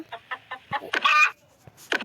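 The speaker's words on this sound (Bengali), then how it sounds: "এটা মুরগি নয়, এটা ভূতের আওয়াজ।" Chicken-like clucking from a creature in the video game Minecraft at night: a run of short, evenly spaced clucks building to a louder burst, then a final squawk, close and clear.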